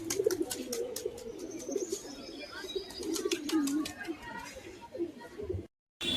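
Pet pigeons cooing in soft, low, repeated murmurs inside a Bangladeshi pigeon collection kept for sale, mixed with faint chirps and nearby background chatter.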